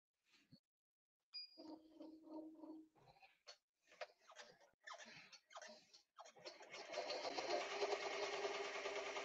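A sewing machine stitches a patch, starting with short bursts of rhythmic whirring and clicking, then running continuously at a steady buzzing pace toward the end, close and fairly quiet.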